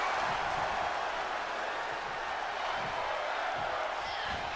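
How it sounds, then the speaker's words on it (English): A wrestling event crowd chants 'fight forever' in a steady, rhythmic roar that fills the arena at a moderate distance without letting up. "Crowd chanted fight forever."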